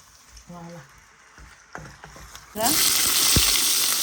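Cauliflower frying in oil in a pan starts as faint clinks and scrapes, then bursts into a loud, continuous sizzle as it hits the hot oil, with a scrape partway through.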